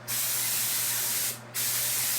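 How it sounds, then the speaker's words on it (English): Spray gun applying concrete sealer to a concrete bathtub, a loud steady airy hiss that cuts off briefly for a moment and then resumes, heard close and alone. "The sealer needs to be sprayed on evenly in 2 coats"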